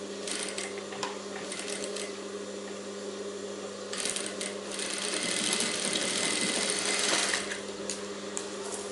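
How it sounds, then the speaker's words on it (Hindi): A sewing machine stitches a princess-cut blouse with a steady mechanical whir that lasts throughout, rising and running louder in the second half. The sound is close, and no one speaks. "वैसे इसको रख के यहाँ पे सिलाई लगा देनी है"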